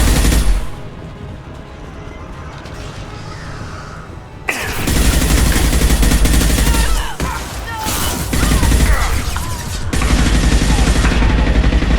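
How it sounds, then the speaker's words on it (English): Heavy automatic gunfire and impact blasts from Mass Effect 2, a loud sustained barrage after a brief quieter opening, with dense overlapping shots and a few sharp breaks. "Firing an impact shot!"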